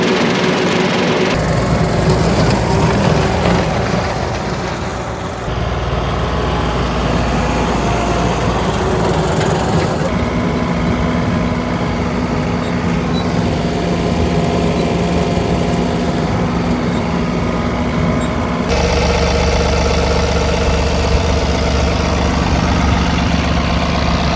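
A John Deere 3039R compact tractor engine drones steadily at a constant rumbling pitch while brush hogging, loud and close, with no voices and only slight shifts in tone.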